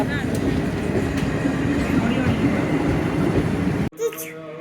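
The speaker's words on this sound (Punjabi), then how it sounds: "ਕਾਦੀਆਂ ਵਾਲੀ ਰੇਲ ਆ ਹੁਣ ਉਹਨਾਂ ਨੇ ਹੌਲੀ ਹੌਲੀ ਹੌਲੀ ਚਲਾਤੀ ਆ" A train rumbles slowly and steadily past at close range, a broad grinding roll that continues before cutting off abruptly near the end.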